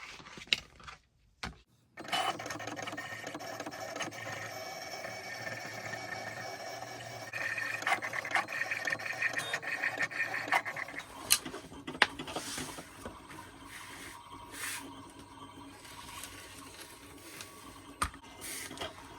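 Vinyl cutting machine cutting a car decal, a steady mechanical whir and buzzing of the moving carriage with occasional sharper clicks, fairly faint and close, no voices.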